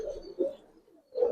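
A pigeon coos softly and close by, in two low rounded bursts separated by a short quiet gap, with no other sound around it.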